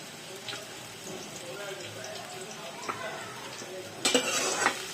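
Small amount of onion frying in a pan as a spoon stirs it, giving a faint sizzle with occasional scraping and clinking of utensil on metal, with a few louder clatters near the end.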